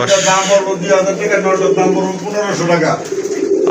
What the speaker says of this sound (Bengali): কবুতর অনেক বড় সাইজের কবুতর দেখেন খাঁচার থেকে কিন্তু অনেক বড় হয়েছে